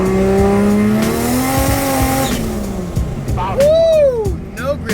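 Subaru WRX with a widebody kit accelerates hard as its tires lose grip, a loud revving engine rising and shifting under high tire squeal and skidding, with a voice shouting over it.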